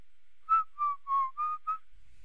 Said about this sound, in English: Whistle while we work.